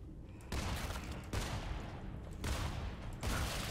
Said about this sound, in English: Wow, it took that many shots.